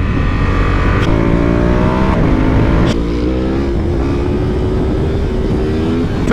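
A 2023 Honda Africa Twin motorcycle accelerates hard, its engine note climbing loudly and close up, then briefly dropping at two quick gear changes before rising again, all under steady wind rush.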